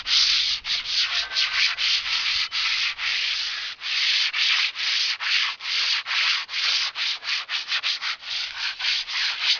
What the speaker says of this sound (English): back for some more sanding. Just real gently, just to kind of smooth everything out.